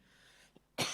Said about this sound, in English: have a bit of a cough